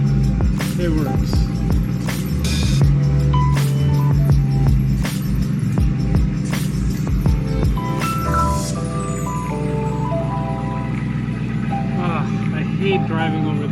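A loud BMW E92 M3 with paddle shifters drives from low speed, its engine droning and throbbing close inside the cabin, with rev changes as it shifts from first into second gear and a few interior rattles.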